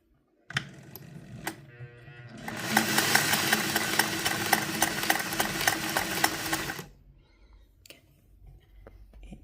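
A Singer 401A Slant-o-Matic sewing machine stitches zigzag, starting with a few clicks, then running in a fast, loud, mechanical chatter for about four seconds before it slows and stops, followed by scattered clicks.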